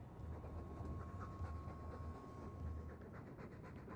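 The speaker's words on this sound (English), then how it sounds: "All that noisy dog breath, day in, day out." A dog pants steadily in the Dragon Age II video game, a faint, rhythmic huffing breath heard continuously over a low, rumbling background hum.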